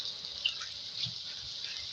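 Water poured into a pan of desi chicken curry being cooked, a steady close hiss of running liquid for about two seconds with a faint clatter partway through.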